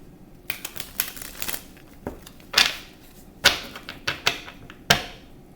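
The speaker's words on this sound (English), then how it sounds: "I'm going to do a quick shuffle." Stiff tarot cards being shuffled, a string of sharp riffling snaps and flicks, several separate bursts close to the listener with short pauses between them.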